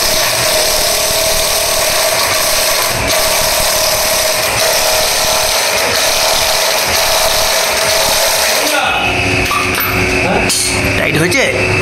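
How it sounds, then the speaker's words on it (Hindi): A power tool tightens the axle nut on a modified Yamaha R15M motorcycle, whirring in a loud, continuous run close by, changing character near the end, with a voice heard in the background. "क्योंकि ये एक्सेल का टाइट हमेशा बढ़िया से करना चाहिए नहीं तो भाई, इसलिए मशीन से कर रहा हूँ।"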